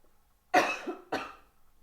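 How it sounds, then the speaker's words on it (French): Two short, close coughs, one after the other, in an otherwise quiet room. "Il se peut que je tousse durant le soin."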